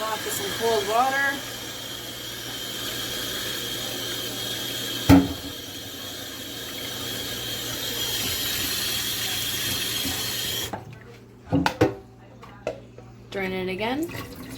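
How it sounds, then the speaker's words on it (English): Cold water runs from a kitchen tap over drained potatoes in a sink in a steady, close rush that stops abruptly, followed by a couple of clanks, with someone talking at the start and end. "Rinse off with some cold water."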